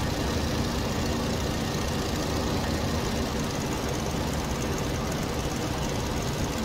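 A World War I era aircraft engine in the Rise of Flight flight simulator drones at a steady, dense roar that never lets up, loud and unbroken from start to finish with no talking.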